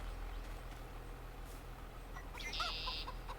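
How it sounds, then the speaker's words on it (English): Chickens clucking on a farm in the Virtual Homestead video game, a brief, faint cluck heard over a steady low engine-like hum. "See how the chickens are doing."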